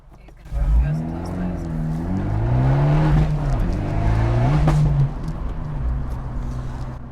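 An Abarth 124 Spider on the road, its engine droning and rising and falling in pitch through gear changes, heard from inside the cabin with a person talking over the engine note.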